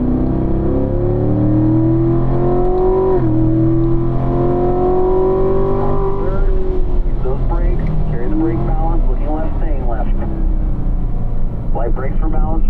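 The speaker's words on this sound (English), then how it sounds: "And now full throttle, foot to the floor." A race car accelerates at full throttle on a driving school circuit, its engine note climbing steadily through the gear as an instructor keeps talking over it, close and loud.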